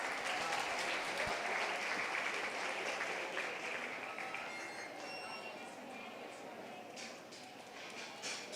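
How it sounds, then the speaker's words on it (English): An audience at a 4-H swine show claps for the exhibitors, sustained dense applause filling the arena, with a faint metallic clink and some background murmur throughout. "Let's give all these exhibitors a nice round of applause."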